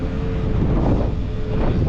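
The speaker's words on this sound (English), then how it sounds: "It's a bit windy." Coastal wind in Safi, Morocco, a constant dense roar of wind buffeting the microphone, steady and close throughout with no voices.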